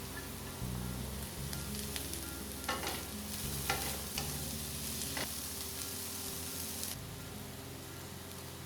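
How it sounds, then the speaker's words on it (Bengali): Vegetables frying with chopped tomatoes and green peas, a continuous soft sizzle with the scrape and tap of a spatula stirring throughout, close but quiet. "সবজিগুলো যখন অর্ধেক ভাজা হয়ে যাবে তখন তাতে কেটে রাখা টমেটো ও কড়াইশুঁটিগুলো দিয়ে আরও খানিকক্ষণ ভেজে নিতে হবে"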